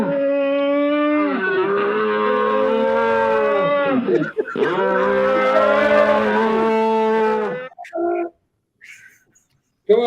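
Cows moo loudly and close by, two long, drawn-out calls one after the other, followed by a few short, clipped sounds and brief silence.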